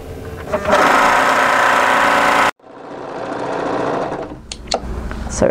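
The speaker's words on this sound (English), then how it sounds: "we're going to overlock them together" An overlocker sews the shoulder seam of a turtleneck tunic, with fabric placed right sides together. It gives a loud, steady mechanical whir that cuts out abruptly, then starts again with a softer run and a few clicks.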